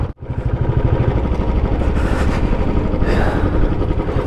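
Old Royal Enfield Bullet Classic 350 single-cylinder engine running steadily after an engine oil refill, a loud, close, even thumping idle that continues without a break throughout.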